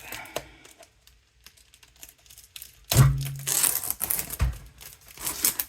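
Crinkling and tearing of packaging as a Diamond Art Club box is unboxed, with a few faint rustles followed by a burst of loud crackling plastic and paper handled up close.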